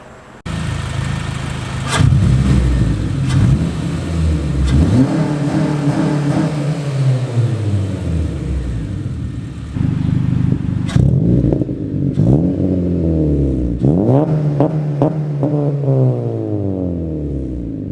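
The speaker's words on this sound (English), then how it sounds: "let's go ahead and do a couple of sound clips to show you guys what it sounds like" A 2014 Honda Civic Si with a catback exhaust revs repeatedly, rising and falling in loud waves with sharp crackles between pulls, close by and with no talking.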